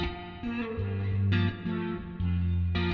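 Electric guitar parts run through chorus, a flanger-phaser effect and stacked plate and room reverb on the group bus, with sustained swirling chords and low notes changing every second or so, alone and steady in level.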